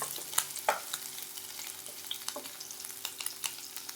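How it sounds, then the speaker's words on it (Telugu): Green chillies and ginger-garlic paste fry in hot oil, giving a quiet, steady sizzle with a few soft stirring scrapes and light pops, with no talking. "దీనిలోకి అల్లం వెల్లుల్లితో పేస్ట్ వేసుకోండి. ఇవి కూడా పచ్చివాసన పోయేంత వరకు ఫ్రై చేసుకొని"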